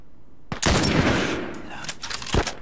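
Sharp gunshots in The Last of Us: a loud burst followed by a decaying rattle, then a couple more cracks, close and punchy.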